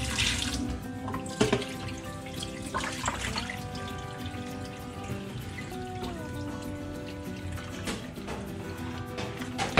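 Water runs steadily from a tap into a sink, with splashes and handling noises as fish are rinsed under the stream; no talking.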